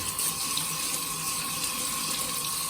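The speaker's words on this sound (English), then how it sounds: "You always, always, always wash your rice." Running water pours steadily from a kitchen tap as rice is rinsed in the sink, a constant close hiss and splash with no voices.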